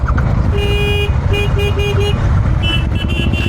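Horn of a Royal Enfield Interceptor Bear 650 motorcycle sounds in a few short, loud, steady toots, one long blast then several quick beeps, close by over a constant engine and outdoor rumble.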